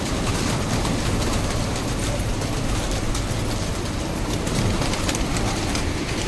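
A flock of pigeons coos and stirs in a loft, a dense continuous layer of soft cooing and fluttering, fairly close and steady throughout, with no talk.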